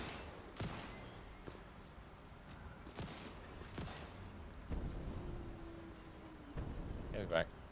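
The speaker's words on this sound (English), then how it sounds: "Lots of gunfire." Rapid bursts of gunfire in the factory-building game Satisfactory, with sharp broadband cracks scattered through the clip under faint ambient noise and occasional game sound effects.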